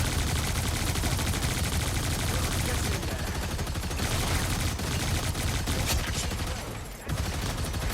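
The Punisher's heavy weapons in Marvel Rivals unleash sustained rapid gunfire, a loud continuous automatic barrage that barely lets up, with only a short dip near the end before it resumes.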